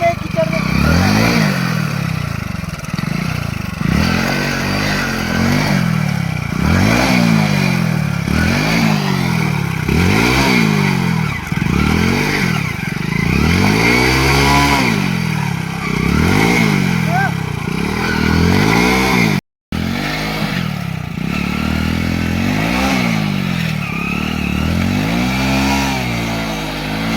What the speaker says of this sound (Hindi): कीचड़ में भी बाइक घुस रहा है।